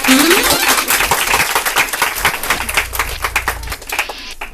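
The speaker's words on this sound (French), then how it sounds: "on applaudit le public" A television game-show studio audience applauds, a dense patter of many hands clapping near and steady before thinning toward the end, with a low hum of voices underneath.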